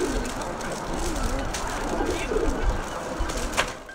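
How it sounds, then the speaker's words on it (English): Soft, bubbling pigeon coos repeat at a moderate distance over faint background noise. "making the well-known bubbling pigeon call"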